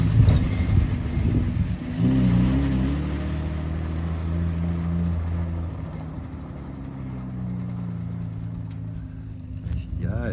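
An old VG Valiant pub truck idles and revs with its exhaust rattling loose off the back bumper, a deep throbbing engine note rising and settling, close by, with people talking over it.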